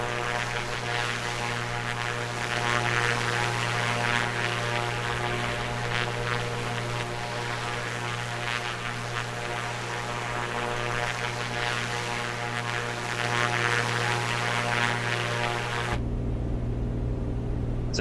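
A Comanche propeller aircraft engine in Microsoft Flight Simulator 2024 drones steadily and loudly with a constant low hum, running smoothly without pause until it cuts out near the end.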